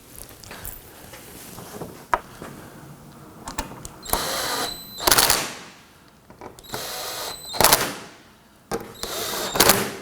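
Power driver running in several short whirring bursts as screws go into a plastic front bumper cover on a 2018-2024 Toyota Camry, with quieter clicks and handling noises between the bursts.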